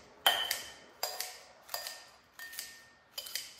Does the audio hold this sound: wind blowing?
no